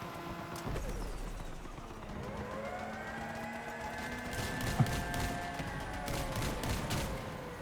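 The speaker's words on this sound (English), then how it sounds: "I'm following the gunfire" Bursts of gunfire crackle under a steady droning hum with shifting whines in the vehicle combat game Crossout, sustained busy action throughout with one sharp louder crack midway.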